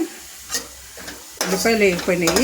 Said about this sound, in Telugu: ఈ ఉల్లిపాయలు వేగిపోయినాయండి.